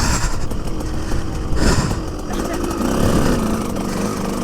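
Motocross bike ridden on a dirt MX track, engine roaring loud and steady with throttle swells, close to the rider, with a voice breaking in over the noise.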